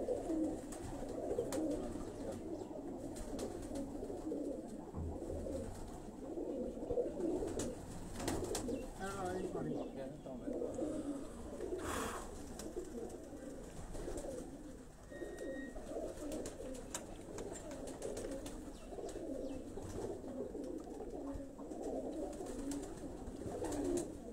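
Pigeons coo repeatedly in soft, throaty bursts throughout a loft, close and moderately loud, mixed with light ambient noise and occasional talking nearby.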